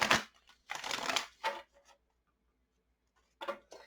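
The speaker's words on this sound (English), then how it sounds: "Let's go ahead and do a little shuffling." Oracle cards shuffled in several bursts of riffling and sliding, close and crisp, with short quiet gaps between passes during a card reading.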